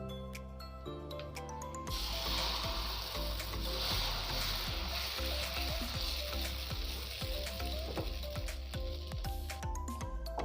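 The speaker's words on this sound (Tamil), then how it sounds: "இப்போ நம்ம தோசை மாவை ஊற்றி சுற்றி எடுத்துடலாம்" Dosa batter poured onto a preheated pan bursts into a loud, sustained sizzle after a couple of quiet seconds, hissing steadily and close with faint scraping as it spreads.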